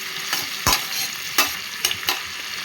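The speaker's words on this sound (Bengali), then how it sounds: "টমেটো কুচি দিয়ে আমি এবার একটু নেড়ে নিলাম" Chopped tomato is stirred into a vegetable curry in a pan over a very low flame, making a soft steady sizzle with several sharp spatula scrapes and clacks at uneven intervals, close up and with no talking.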